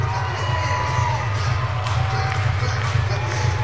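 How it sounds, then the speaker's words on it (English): Loud crowd noise fills a professional NBL Canada basketball game between the Halifax Hurricanes and London Lightning, with steady cheering and shouting in the arena, a low rumbling din and occasional ball bounces, continuous throughout. "Crowd getting a little loud here."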